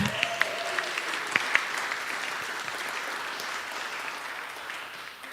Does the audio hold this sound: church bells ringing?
no